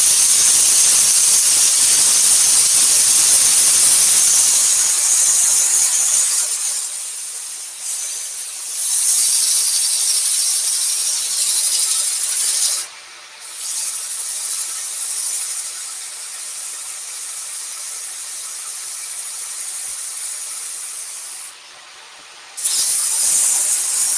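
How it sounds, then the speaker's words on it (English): Loud, steady rushing hiss of dust extractors running continuously during wood sanding on a lathe, with a few brief drops in level before the roar resumes. "switch the extractors on"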